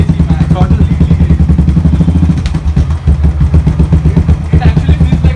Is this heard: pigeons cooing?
no